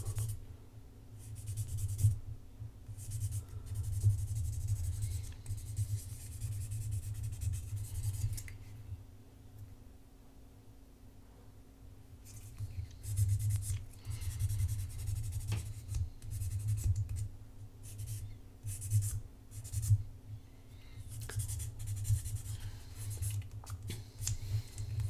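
A nail file rasps across a fingernail, including a peeling nail, in close, quiet rhythmic strokes with brief pauses between passes.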